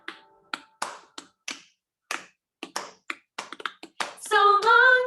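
Sharp, isolated hand claps or snaps in an irregular rhythm during a children's class goodbye song, close and crisp with silence between them, followed by a voice starting to sing.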